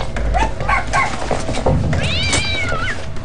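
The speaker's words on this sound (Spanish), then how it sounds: "ha encontrado al gato escurridizo escondido en la cocina" A cat hiding in a kitchen meows loudly and close, one drawn-out, wavering cry following some earlier rustling and movement noises.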